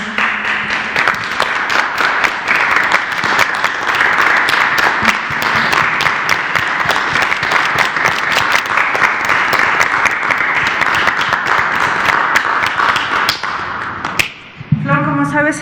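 Sustained, loud applause offered as a tribute to health workers at 6:30 in the evening, many hands clapping densely for about fourteen seconds before stopping abruptly, followed by a brief voice.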